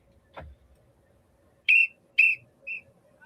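A sharp whistle is blown twice in quick succession, loud and close, followed by a shorter third toot, with a faint thump just before and quiet background otherwise.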